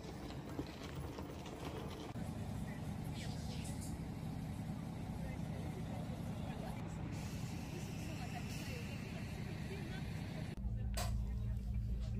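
Steady rumble of a bus from inside the cabin while touring the Estonian islands, continuous low engine drone with rattles and clunks, a heavier jolt near the end, and faint voices underneath.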